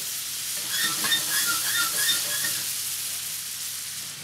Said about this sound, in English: And give that a stir in.